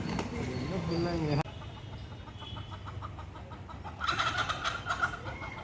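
Rayalaseema roosters cluck and call nearby in short, repeated bursts, with a louder stretch of clucking near the end over a low background hum.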